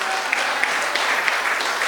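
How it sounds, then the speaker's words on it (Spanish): Church congregation clapping during a sermon, a brief, dense burst of applause that fills the room at steady loudness. "Alguien puede darle un aplauso a mi Señor"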